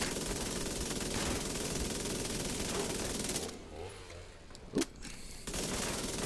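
Dense, continuous automatic gunfire in The Division 2 video game, a loud rattling barrage that breaks off briefly near the end with a single sharp shot before resuming.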